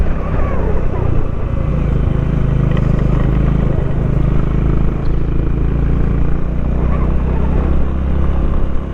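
A Honda Highness CB350 motorcycle labours up a steep mountain climb in first gear in Ladakh, its engine a loud, constant low drone heard close by, with wind noise over it.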